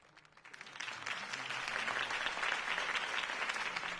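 Crowd applause in the Batman Telltale video game, at a political campaign speech, swells from scattered claps into a full, steady ovation, heard from a slight distance without voices over it.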